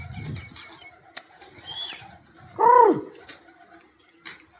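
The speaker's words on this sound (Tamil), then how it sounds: "புறா அந்த நம்ம கிணத்துல இங்கே தான் இருக்கு." Pigeons at a garden well give a burst of wing flapping followed by a clear, close coo, with faint rustling and quiet gaps around them.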